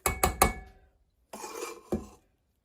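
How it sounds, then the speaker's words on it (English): Heaping tablespoons of egg white mixture for a Vasilopita New Year's cake are dropped and flicked off a spoon into a butter mixture, making three quick clinks against the bowl, a pause, then a scrape and one more clink. "3 heaping tablespoons of egg white mixture into my butter mixture."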